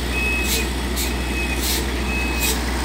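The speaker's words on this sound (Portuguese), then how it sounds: "Olha aí, gente, mais uma caçamba. Essa aqui é amarela." A yellow dump truck reverses, its backup alarm beeping four times in an even rhythm over a loud, steady engine rumble close by.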